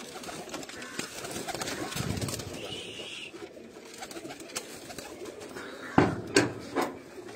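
Domestic pigeons kept on a rooftop coo in soft, low rolling calls at moderate distance, with a few louder knocks and rustles near the end and a voice faintly in the background.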